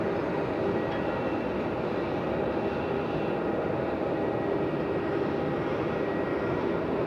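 A Jetstar airliner at Melbourne Airport produces a steady, broad jet-engine roar with a deep rumble that holds at an even level throughout, with no voices.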